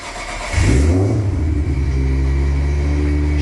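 A Nissan S15 drift car pulls up close and loud, its engine revving up then settling into a steady throaty idle, with no voices over it.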